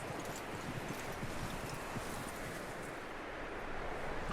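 Horse hooves and movement in the game Red Dead Redemption 2, a soft, steady clip-clop under a wash of wind and rustling, faint and continuous without any voices.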